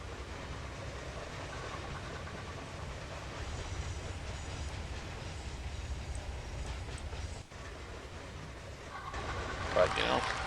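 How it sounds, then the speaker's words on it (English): An iron ore train in the video game Locomotion rolls along with a steady rail rumble and faint clatter, continuous and moderately loud, swelling toward the end. "there's the first iron ore train."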